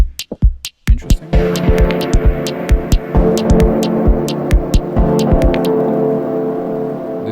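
Dub techno synthesizer chords with the unison noise function engaged, a hissy, throbbing wash under sharp percussive clicks and thumps that repeat in a steady pulse.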